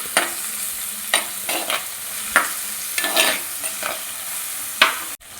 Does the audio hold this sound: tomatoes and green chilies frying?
yes